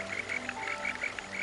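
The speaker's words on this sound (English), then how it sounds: "This is the sound of Burgeri robustus." Buergeria robusta frogs call beside a stream in Taiwan's Shuangliu National Forest Recreation Area: a run of short, repeated croaking chirps in an uneven rhythm over a steady watery background hum.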